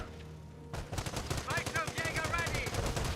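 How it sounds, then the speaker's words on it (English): Rapid machine-gun fire rattles from a Stuka dive bomber's strafing run in Company of Heroes, a sudden, loud, sustained burst of gunfire with voices underneath. "strafing run"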